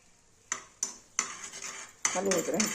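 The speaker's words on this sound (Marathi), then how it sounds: "हलवत राहायचं सारखं," A metal spoon clinks against a pot of ghee melting over a low gas flame, with three separate taps followed by steady stirring and a soft bubbling sizzle.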